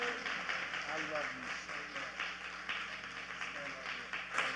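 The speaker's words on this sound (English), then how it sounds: "y'all better clap your hands for that today" A church audience claps their hands in celebration, steady crowd clapping that continues throughout under a speaker's voice.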